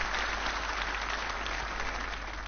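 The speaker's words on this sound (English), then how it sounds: "he gets a round of applause because he's such a good player" An audience at a snooker match applauds in a steady, even wash of clapping, moderately distant and sustained throughout without a break or any voice.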